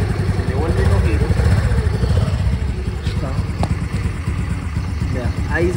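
A Honda Navi Adventure scooter-style motorcycle engine idling very low and rough, close and steady with an uneven chug as if about to stall, with a few faint clanks over it.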